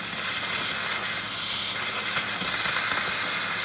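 An oxyfuel torch cutting steel plate gives a loud, steady roaring hiss, close and continuous throughout with slight fluctuations, with no voices.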